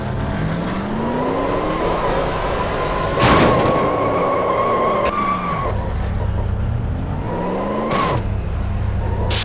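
Race cars collide and skid in the NASCAR Thunder 2004 racing game, with steady engine drone, sliding tire screeches and a sharp impact crash near the middle, then another hit toward the end.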